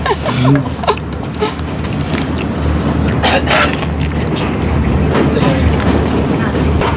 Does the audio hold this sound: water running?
no